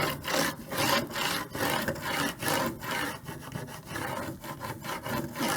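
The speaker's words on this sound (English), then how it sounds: "I can smooth this design onto my wooden board. And I can use my scraper." A scraper rubs vinyl lettering down onto a wooden board for a custom welcome sign, with repeated close, rhythmic scraping strokes, about two per second, and no one speaking.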